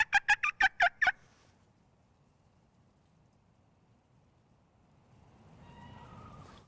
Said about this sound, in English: He gobbled after I called.